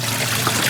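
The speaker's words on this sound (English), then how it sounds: "That's the good stuff. There she goes. Pumping out the final spin." A washing machine pumps out water on its final spin, a steady broadband rush and trickle of draining water that is close and fairly loud, with no voices.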